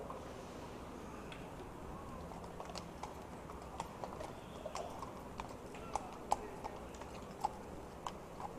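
Hooves of a mounted patrol horse clip-clopping on a city street, heard as faint, irregular distant clicks over a steady background hum, with soft murmuring voices.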